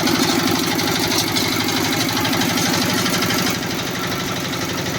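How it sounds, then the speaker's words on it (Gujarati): A 5 HP Giriraj nano tractor, a new 2024 model, runs with a steady, close, throbbing engine drone for the whole stretch, dipping slightly in level near the end, with no voices. "ચલાવે છે ગિરિરાજ નેનો ટ્રેક્ટર"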